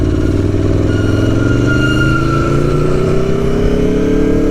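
Motorcycle pulling away from a traffic light on a public road loop, its engine loud and close, revving with a steadily rising pitch as it accelerates through the gear.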